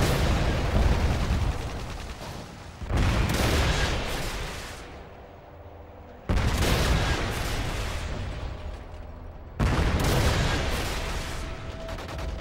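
Video game combat during a Predator missile strike, heavy booming blasts and continuous gunfire in three loud bursts separated by abrupt cuts.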